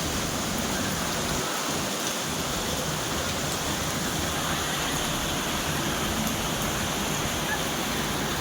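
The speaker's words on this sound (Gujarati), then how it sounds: "બહુ જોરદાર સરસ વરસાદ આવી રહ્યો છે" Steady, dense roar of heavy rain with low rumbles of thunder near the start, continuous throughout.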